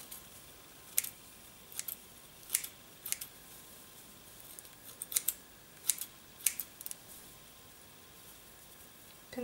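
Sharp, quiet snips of scissors trimming moss glued onto an Easter egg decoration, about a dozen short cuts in an irregular rhythm over a faint background hiss, with no talking.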